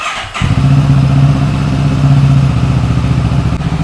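An Italjet Dragster 700 Twin motorcycle fires up with a short starter burst, then settles into a loud, close, steady twin-cylinder idle that holds evenly to the end.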